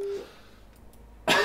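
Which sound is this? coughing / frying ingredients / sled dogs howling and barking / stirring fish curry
coughing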